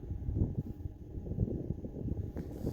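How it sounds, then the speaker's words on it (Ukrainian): Low, gusty wind rumble buffets the microphone steadily outdoors during welding work on an AGD 2.4 machine, with a brief higher whoosh near the end and no voices. "тому що дує вітер і всередину його не затягнеш"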